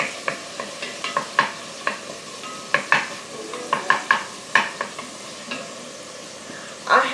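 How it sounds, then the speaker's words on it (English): Onions frying in a pan while a utensil stirs them, producing a rapid series of distinct scraping knocks over a soft steady sizzle, close and clear with no talk. "So, just going to stir this for 2 or 3 minutes and let the onion soften a bit."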